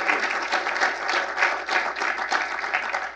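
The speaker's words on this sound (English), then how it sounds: "thank you all for that nice round of applause." Audience in a lecture hall applauding steadily, a dense continuous wash of many hands clapping at even loudness throughout, with no voices over it.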